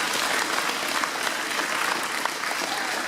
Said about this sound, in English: So round of applause to OLA as well for making this happen.